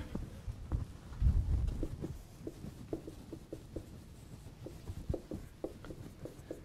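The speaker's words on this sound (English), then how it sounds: "let's write that word down" Pen on paper as a word is written down, faint soft scratching strokes in short irregular bursts, close and quiet with no talk.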